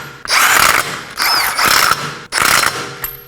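A ratchet snugging wheel fasteners on a 2020s Toyota Corolla, three loud, close bursts of rapid clicking separated by brief pauses.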